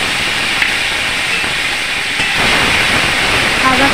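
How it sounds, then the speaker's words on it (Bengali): Ginger and green chili paste fries in a hot pan, a loud, steady hiss close by that swells slightly partway through, with no talking. "আদা কাঁচা লঙ্কাটাকে ভালো করে ভেজে নেব"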